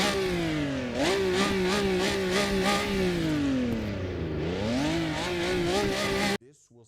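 In the Assetto Corsa EVO racing game at Suzuka, a five-speed manual car's engine revs loudly and continuously, its pitch dipping and climbing through gear changes before cutting off abruptly near the end.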